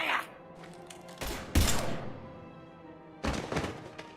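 Gunfire in the Mass Effect 3 video game, a few heavy thudding shots and bursts with pauses between them, fairly close and mixed with low background game sound.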